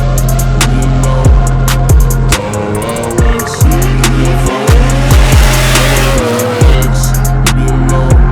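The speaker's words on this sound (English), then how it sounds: "perfecting their technique to make the car slide sideways around corners" Drift car at Orlando Speed World sliding sideways through corners, engine revving hard with repeated loud tire squeals and skids, several passes close by, no voices.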